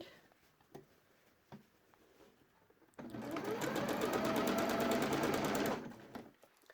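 Close, quiet sewing machine stitches a dungaree bib in one brief, steady run of rapid needle chatter lasting about three seconds, with soft handling sounds of fabric before and after.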